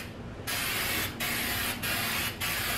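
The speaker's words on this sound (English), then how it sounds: "So I'm just going to spray it about 8 inches away." Aerosol spray can paint applied to a shaved engine bay over old paint buildup from about eight inches away, heard as four steady, close hissing bursts separated by brief pauses.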